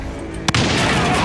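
A gas tank blown up with a firework in The Walking Dead: one sharp, short blast, followed by a loud, sustained roar and rumble that carries on to the end, with no voices.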